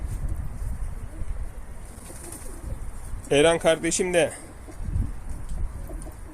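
Pigeons coo softly and steadily in the background, low and continuous, while someone talks briefly over them midway through.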